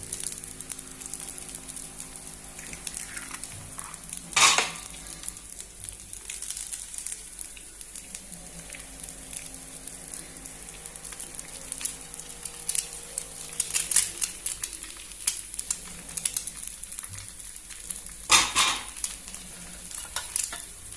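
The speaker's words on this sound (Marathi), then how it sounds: "एग घातला पळय तेका मातशें वयर मीठ घालुया आनी मातशें पळय तेल परत मातशें" An egg frying in oil in a pan with a little salt gives a steady, low sizzle, broken by a couple of sharp clattering scrapes of a utensil against the pan.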